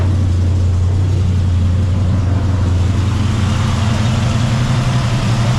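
A Chevrolet C10 truck's big block 454 V8 running nearby, a loud, steady, low rumble with even idle throbbing throughout and no voices.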